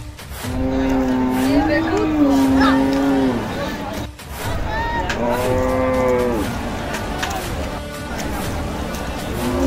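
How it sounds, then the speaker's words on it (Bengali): Cattle at a muddy Qurbani livestock market in Charmonai, Barisal, let out two long, loud, close moos a few seconds apart, with market noise and voices in the background. "এখানে এসে আমি অনেক গরু ও ছাগল দেখতে পাই।"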